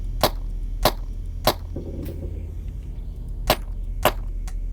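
Blaster shots in the video game Subliminal, five sharp, evenly spaced zaps with a longer gap after the third, heard over a steady low hum with no talking.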